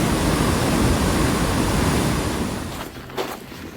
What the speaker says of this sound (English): It sounds like there might be a waterfall just behind there.